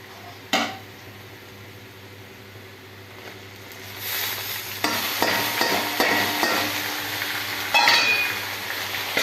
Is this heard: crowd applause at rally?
no